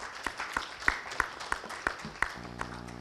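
A sparse few people clap at a start-up convention awards event, slow uneven claps spaced about a third of a second apart, fading out as a low hum takes over.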